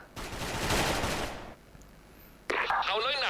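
AK-74 rifle fire in a team-based war video game: a loud, sustained automatic burst for over a second, then a short quiet gap before a voice briefly speaks.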